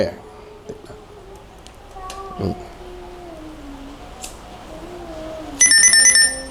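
A telephone ringtone sounds near the end as a short, bright, repeating electronic tone pattern, preceded by quieter wavering tones and background noise.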